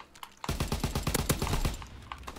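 Rapid automatic fire from an FG 42 rifle in the World War II shooter Call of Duty WW2, a dense burst of close, loud shots rattling off for about a second and a half after a brief quiet start.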